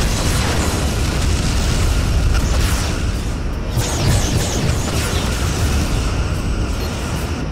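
A destroyed Borg vessel explodes in the space combat video game Star Trek Legacy, a loud sustained rumbling blast with crackling debris bursts layered through it, dense and continuous for several seconds.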